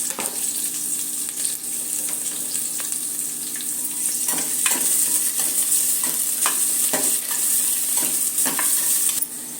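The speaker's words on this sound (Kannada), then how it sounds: "ಈರುಳ್ಳಿ ಚೆನ್ನಾಗಿ ಫ್ರೈ ಆಗಿದೆ" Chopped onion and mint fry in a pan with a bay leaf, giving a steady, close sizzle throughout, broken by repeated scraping strokes of a spoon stirring the mixture.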